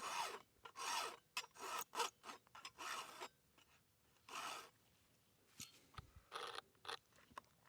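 File stroking the rakers on a miniature chainsaw chain, a series of quiet, close rasping strokes in uneven bursts with brief pauses between them.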